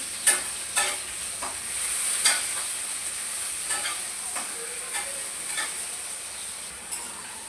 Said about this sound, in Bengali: এখন পেঁয়াজটা ভালো করে ভেজে নিব।